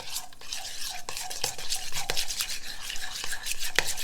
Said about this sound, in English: Let's mix this up and see what it needs.